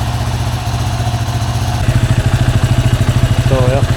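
Yamaha WR250R motorcycle engine idling close by, a steady low throbbing putter that becomes a more pronounced regular pulsing partway through.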